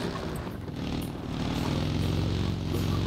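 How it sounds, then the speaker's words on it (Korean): Motorcycle engine in PlayerUnknown's Battlegrounds, a steady low droning hum that holds fairly loud and even for the whole stretch, with no one speaking over it. "와, 이 오토바이 들고 왔네"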